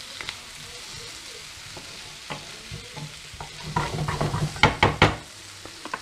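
Steak and fresh parsley frying in butter in a pan, steady sizzle under repeated stirring, with utensil scrapes and clacks growing louder and busier toward the end, no voices.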